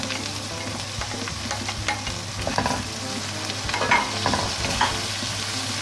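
Spices with cumin, nigella seeds and tomatoes frying and being stirred in a pan for aloo gobi, a steady close sizzle with scraping stir strokes and clinks throughout, no talking.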